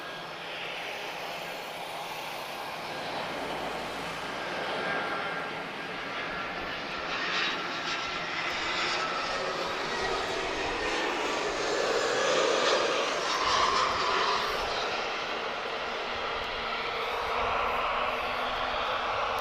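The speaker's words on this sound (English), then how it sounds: "TP89 A330 Neo off to Sao Paulo, Brazil." A TAP Airbus A330neo departing Lisbon Airport for São Paulo, its jet engines producing a steady, distant, broad roar that swells slightly and holds for the whole stretch.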